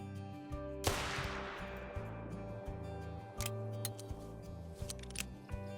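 In theHunter: Call of the Wild, a single-shot 45-70 lever-action rifle fires once with a sharp, loud crack and decaying echo, followed by a few quick mechanical reloading clicks, all over steady background music.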